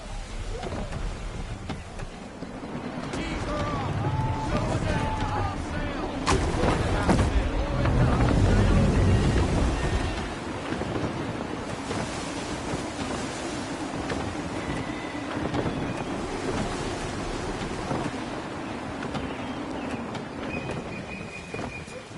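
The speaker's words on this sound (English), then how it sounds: "Gusty winds can be difficult to manage." Gusting wind and rolling waves surround a sailing ship in Assassin's Creed III, a steady broad roar that swells loudest midway, with creaks and splashes and a low sustained rumble throughout.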